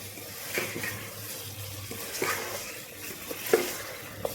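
Chicken fries in oil in a pan while being stirred, a soft continuous sizzle under scraping strokes of a spoon and a few sharper clinks, close and fairly quiet with no talk.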